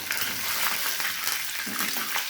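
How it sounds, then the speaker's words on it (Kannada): Curry leaves spluttering in hot oil while frying radish palya, a steady close sizzle with small crackling pops and no talk. "ಕರಿಬೇವು ಹಾಕಿಬಿಟ್ಟು, ಕರಿಬೇವು ಸಿಡಿದ್ಮೇಲೆ"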